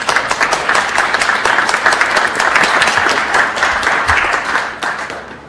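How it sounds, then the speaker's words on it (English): A crowd applauds steadily for several seconds, dense clapping that fades slightly at the end. "urge you to give her and the staff and volunteers a little round of applause"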